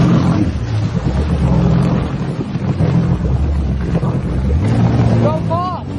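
A shark-shaped watercraft is driven across water with a loud, continuous engine drone and heavy wind buffeting on the microphone, and brief tonal chirps near the end.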